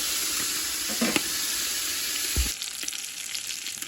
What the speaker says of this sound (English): this bacon's been cooking down for a while now